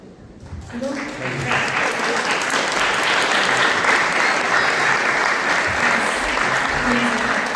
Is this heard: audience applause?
yes